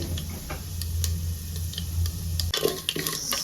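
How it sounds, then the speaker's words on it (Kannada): Mustard seeds and lentils crackling in hot oil for a tempering: sharp, irregular pops and ticks over a low steady hum, with a denser burst of crackles near the end. "ಸೊ ಸಾಸಿವೆ ಎಲ್ಲ ಒಂಚೂರು ಚಟಪಟ ಅನ್ನಲಿ"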